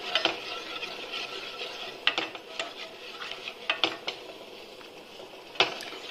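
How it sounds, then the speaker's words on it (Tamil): Wheat milk and palm jaggery halwa being stirred in a pan, with scraping and light clinking at an irregular pace, fairly soft and close, with no talking. "நல்லா கைவிடாமல் கிளறிட்டே இருங்க."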